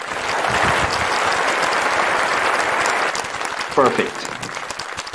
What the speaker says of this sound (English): let's give him also a round of applause here